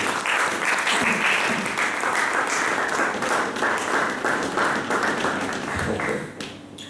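A church congregation at an afternoon service applauds loudly and steadily, a dense crowd of clapping hands that holds for several seconds before easing off at the end.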